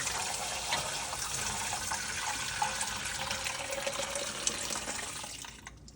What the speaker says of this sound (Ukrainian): Полокати це будемо десь приблизно 4 рази в холодній воді.